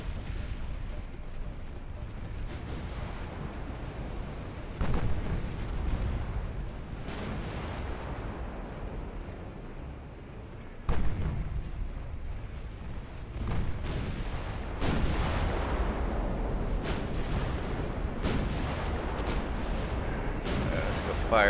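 Warships trade naval artillery fire in Ultimate Admiral Dreadnoughts, a constant rolling barrage of deep booms with sharper loud blasts near the five- and eleven-second marks, with someone talking over the battle.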